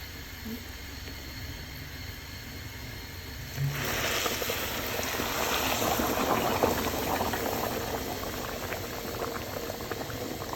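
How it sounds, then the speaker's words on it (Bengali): Hot water poured onto polao rice for tehari in a hot pot, a sudden surge into loud, rushing boiling and bubbling that continues steadily up close, with no talking. "কষানো হয়ে গিয়েছে, এখন গরম পানি দিয়ে দিবে।"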